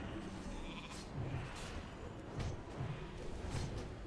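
Sheep bleats from a polymorph spell during a World of Warcraft raid, several short wavering bleats repeating over a dense, busy backdrop of combat sounds at moderate volume.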